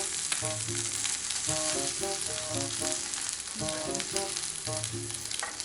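An egg frying in a pan left sticky from cooking Spam gives a steady, soft sizzle that runs throughout beneath a light, rhythmic background music melody.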